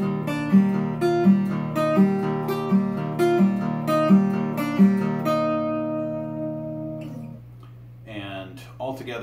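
Slow guitar pull-offs from the bridge of a song, a run of clear plucked notes each falling to a lower pitch at a steady unhurried pace, then a held chord ringing out and fading, played alone up close.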